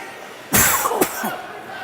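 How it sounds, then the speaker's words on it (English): Two sharp coughs in quick succession ring out close by over a low ice hockey arena murmur during a 12U youth game, followed by faint background crowd noise. "Apologies for the cough"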